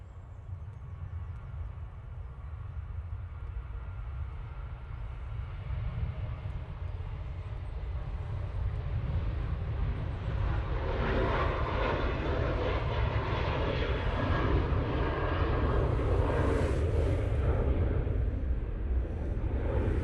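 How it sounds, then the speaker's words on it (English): A Ryanair airliner on its takeoff roll bound for Madrid from Manchester Airport, a deep jet engine roar swelling from moderate to loud and steady, with broadband rumble building as it accelerates down the runway. "Ryanair 73 now on the roll."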